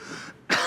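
A man in a courtroom lets out a brief throat clear and then a sharp single cough, close and loud, all within a fraction of a second.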